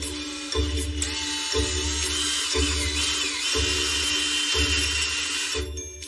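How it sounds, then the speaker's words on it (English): A drill whirs steadily with a high whine, its low motor note pulsing roughly once a second as the bit bites through an old wooden dowel into a chaise lounge frame, close and continuous. "So I'm going to drill straight through there, through the old dowel, into the frame down here"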